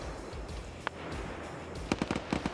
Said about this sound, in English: More long-range fire coming in